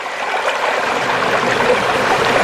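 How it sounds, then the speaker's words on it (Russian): Small waterfalls on a forest stream make a steady, full rush and splash of water, loud and close, with no pauses. "Какие-то странные водопады на этом ручье."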